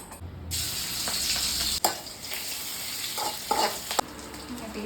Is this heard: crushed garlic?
yes